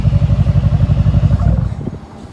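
A Mercedes-AMG GLC 63S 4MATIC coupe with a tuned exhaust idles nearby in a loud, rapid, pulsing burble, then the engine shuts off and the rumble dies away.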